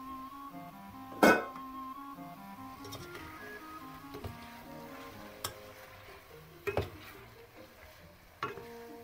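Pork tenderloin goes into a hot pan and fries with a low, steady sizzle, broken by a few sharp utensil clinks and scrapes as the meat is stirred, close and moderate.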